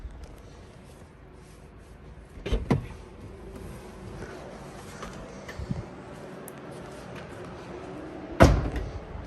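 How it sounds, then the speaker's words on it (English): Two solid Tesla Model X door thumps, one early and one near the end, with a smaller knock between, over quiet ambient hum and faint background noise. "I just got out and closed the door."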